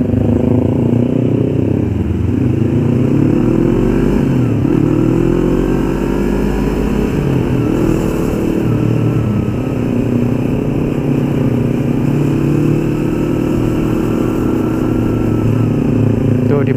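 Yamaha MT-25 motorcycle from 2016 on a test ride, its engine droning steadily with shifting revs and heavy wind rumble throughout, loud and continuous.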